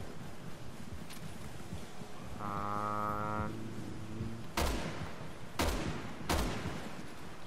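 Three sharp gunshots ring out in the video game Resident Evil 6, spaced about a second apart after a brief tonal hum, loud and close over a busy game background.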